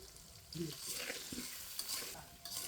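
Potatoes fry in a pan with salt and turmeric while a spoon stirs them. The sizzle is soft and close, broken by irregular scraping and stirring strokes, and no one speaks.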